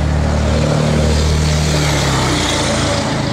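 A 1966 Chevrolet Chevelle SS with a Muncie four-speed manual runs with a loud, close, deep rumble that holds steady and then eases a little near the end.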